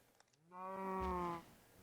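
A single long, low moo from a Minecraft cow, steady and drawn out for about a second, heard clearly on its own against a quiet background.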